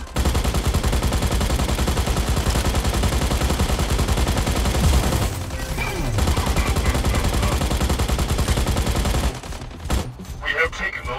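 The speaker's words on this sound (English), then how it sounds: "Incoming fire." Dense, continuous robot mech gunfire from the Mech Arena mobile battle game, loud rapid machine-gun bursts running almost without pause, with brief lulls near the middle and end.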